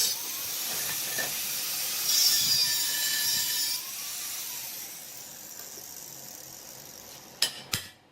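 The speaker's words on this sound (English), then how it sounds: "By carefully sweeping the grinding disc along the broken transition areas, he manually sculpts a clean, symmetrical contour" A grinding disc sweeps over an aluminum wheel rim, a thin high hiss and whine that swells and fades, ending in a couple of sharp scraping bursts.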